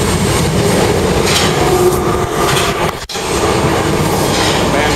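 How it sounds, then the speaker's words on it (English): A train pulls into a station with a loud, steady rumble of wheels and rail noise, and a sharp clack partway through. "Here's my train."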